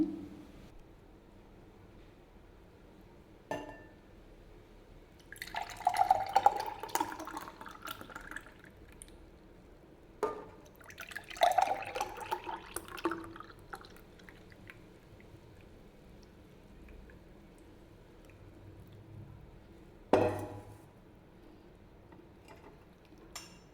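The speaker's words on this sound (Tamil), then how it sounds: "இப்போ டம்ளருக்கு மாற்றிக்கலாங்க" Aloe vera juice is poured into a tumbler in a kitchen in three short separate pours, each a faint liquid splash and trickle, with quiet gaps and a soft knock between them.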